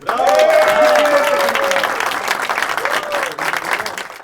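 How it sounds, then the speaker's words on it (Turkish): Applause from a crowd honoring the race winner at a Turkish track championship awards ceremony, steady and fairly loud throughout, with a voice heard over it. "Alkışlarınız Andrea Furci."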